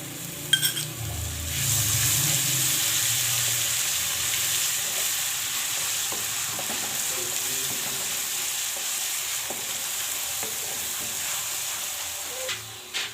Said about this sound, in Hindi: अब मैं इसमें डाल दूंगी अदरक लहसुन का पेस्ट और इसको भी भून लेंगे।